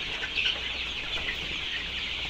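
A crowd of 25-day-old Sonali chickens peeping and clucking continuously, a dense chorus of small birds nearby with no talking.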